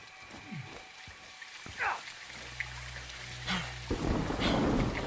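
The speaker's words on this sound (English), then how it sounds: "It's raining fucking hard." Heavy rain hisses steadily in Call of Duty Modern Warfare 2, with a low thunder rumble in the middle and a few scattered faint game sounds, moderately loud throughout.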